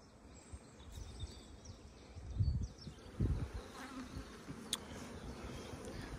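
Bees buzz steadily at an apiary, a dense, continuous hum of many insects with a few louder passes close by, heard outdoors without any talking.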